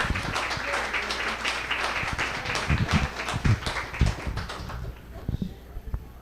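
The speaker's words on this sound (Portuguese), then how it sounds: "Uma salva de palmas." Audience applause at a Brazilian homage event for Dr. Alani Santana, dense clapping with sharp hand claps standing out, steady and moderately loud throughout before thinning toward the end, with some speech mixed in.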